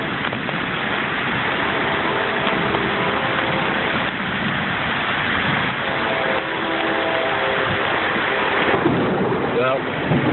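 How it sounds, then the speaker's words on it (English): Wind gusting steadily past a porch during a thunderstorm, a continuous loud roar and rush with rain noise mixed in throughout. "the wind is starting to blow this shit right in here on the porch"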